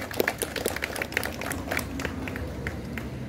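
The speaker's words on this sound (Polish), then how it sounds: "właśnie brawa oczywiście" Applause from a crowd gathered for the unveiling of a memorial plaque, a dense patter of clapping hands filling the room at moderate volume with no voices over it.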